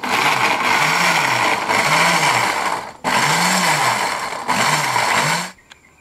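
Blender whirring loud and close as it purees chili with a splash of water for eggplant sambal, the motor running in steady bursts with brief pauses and pitch wobbles before stopping.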